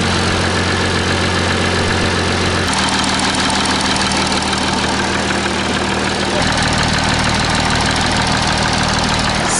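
Audi A6 engine idling roughly with a misfire, a steady loud low rumble throughout that shifts in tone partway through, with faint voices in the background.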